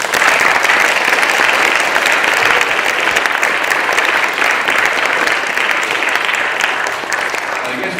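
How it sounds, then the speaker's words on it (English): Audience applause at a poetry slam fills a hall, dense and sustained clapping from a sizable crowd at close range, holding steady throughout with no talking over it. "a big round of applause for all those people as well"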